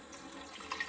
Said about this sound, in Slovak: A zalejeme vodou, ale zalejeme len povrch tej dyne.